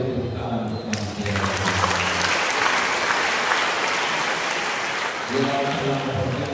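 A congregation at an Easter Mass in a parish church in Pontianak bursts into applause, a dense wash of clapping that swells and holds for several seconds, with a voice speaking before and after it.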